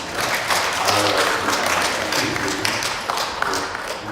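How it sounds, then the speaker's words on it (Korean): A church congregation at Sunday worship claps in welcome for a returning member, a short burst of mixed clapping that stays fairly even and fades slightly at the end. "오랜만에 나오신 우리 박수로 한번 환영합니다"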